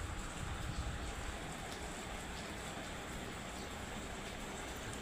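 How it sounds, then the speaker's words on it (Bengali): Steady rain falls outside as a soft, even hiss that stays faint and unbroken throughout, with no distinct drops standing out. "বাহিরে এখনো বৃষ্টি পড়তেছে।"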